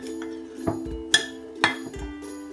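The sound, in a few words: mixing dry ingredients for chocolate mousse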